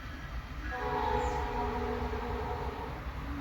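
A train rolls past nearby with a steady broad rumble and a sustained tonal horn-like wail rising in the middle and holding to the end, no voices present.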